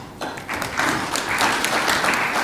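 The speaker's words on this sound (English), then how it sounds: "Another round of applause, please, for Isaac." Audience applause for a speaker named Isaac at a coffee industry summit in Africa: a broad, steady wash of many hands clapping that swells after a quieter start and holds dense and even to the end.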